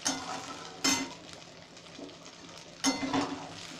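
A ladle stirs rice in a kadai, giving two sharp scraping clanks against the metal with softer shuffling and a faint sizzle between them, close and quiet.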